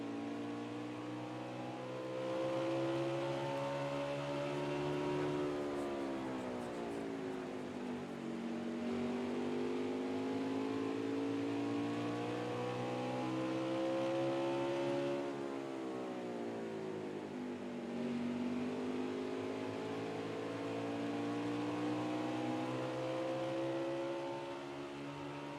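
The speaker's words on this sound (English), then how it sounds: "I want to go in car for a lap just to listen to how the Bolt is driving this race car here" Onboard a race car lapping Richmond Raceway, the engine drones in a steady, high whine that swoops down and back up through each corner, repeating in long cycles with no talk.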